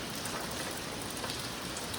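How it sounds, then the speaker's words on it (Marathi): Steady heavy rain pours down during a road trip to the Konkan, a dense, even hiss that holds constant throughout with no voices. "छान पाऊस आहे"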